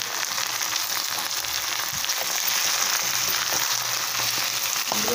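Goat tripe fries with browned onions and green chillies in hot oil, giving a steady, close, even sizzle with faint stirring knocks underneath throughout.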